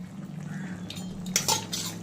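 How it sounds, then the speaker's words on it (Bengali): Rinse water from a spice bowl splashing into a cooking pan of Bengali jhinge posto, heard as short close liquid splashes with a clink of the bowl, over a low background hum. "যেই মশলার বাটিটা মশলা করেছিলাম সেই বাটিটা ধুয়ে হালকা করে জল দিয়ে দেবে"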